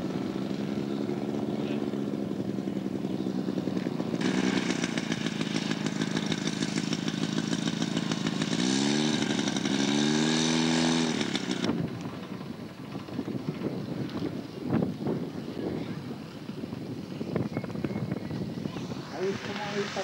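A giant model ultralight aircraft engine drones steadily under a commentator's voice, swelling louder for several seconds as the plane passes near, then fading back beneath continued talk and wind.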